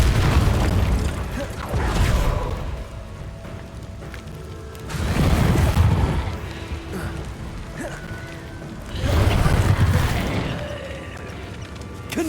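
Booming spell blasts from Confringo in Hogwarts Legacy, a fight against an Inferius, with three heavy low rumbling bursts spaced a few seconds apart over game ambience.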